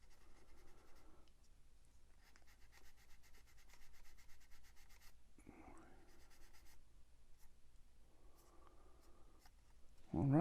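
Sandpaper rubs across the body of a Dodge Shelby in soft, steady back-and-forth scratching strokes, fairly faint, with short pauses between passes and a brief voice near the end.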